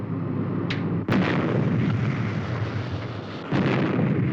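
A weapon fires in the Supercar puppet TV series, a sharp crack followed by a long roaring blast and a second burst later, loud and close over a dense rumbling background.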